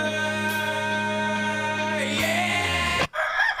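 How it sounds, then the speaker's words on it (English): A rooster gives one long, loud, close crow that holds steady for about three seconds and then cuts off abruptly. "Here come the rooster."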